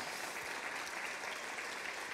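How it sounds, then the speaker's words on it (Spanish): Soft, even applause from a church congregation praising the Lord, a continuous wash of many hands clapping that sounds faint and somewhat distant. "Vamos a darle un fuerte aplauso al Señor."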